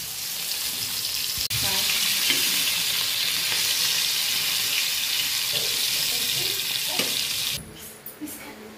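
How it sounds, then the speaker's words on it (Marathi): Tilapia fries in a pan, giving a loud, steady sizzle close by with light clatter and some running water behind it. It ends in a few sharp spatters and then goes quieter. "हा आणि इथं चिलापी फ्राय होते आणि तिकडं बघा कालवण शिजतंय."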